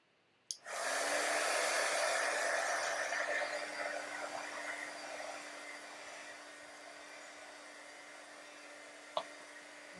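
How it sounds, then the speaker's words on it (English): A heat gun switches on with a click and blows a steady, loud whooshing hum while drying a mixed media art piece, continuing close up for about nine seconds before a brief knock. "I need to heat gun this because I don't want anything to go."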